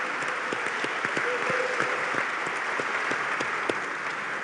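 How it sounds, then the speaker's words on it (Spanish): Audience at a science congress panel applauding steadily, a dense patter of many hands clapping at moderate volume without cheering, continuing evenly for a few seconds. "Le pido un aplauso muy especial a él."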